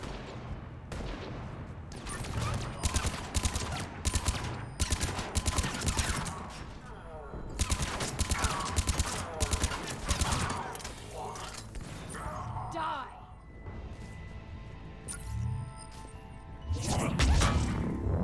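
Gunfire in the video game Mass Effect Legendary: repeated sharp shots and rattling bursts over a dense, rumbling battle soundscape, loud and continuous with brief lulls.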